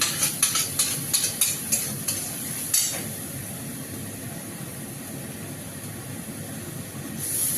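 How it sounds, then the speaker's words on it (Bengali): Spice paste and ground spices with tomato fry in a pan, starting with a few quick stirring scrapes and clacks and then settling into an even, moderate sizzle with no talking. "একটু মশলাটা একটু ভেজে নেব"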